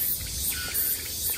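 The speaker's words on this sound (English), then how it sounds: "You can hear the cicadas." Cicadas drone in an outdoor spot in Gamcheon Culture Village, Korea, as a continuous high buzzing chorus with slight pulsing, moderately loud and heard alone.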